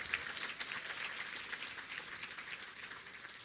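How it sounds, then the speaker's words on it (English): Applause from an audience at a high school athletics Hall of Fame ceremony, a quiet, even patter of many hands clapping at a distance, continuous and faint. "That deserves a round of applause."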